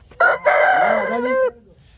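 Rooster crowing once, loud and close, a long drawn-out call with a short break near the start and a falling tail, standing alone with no talk over it.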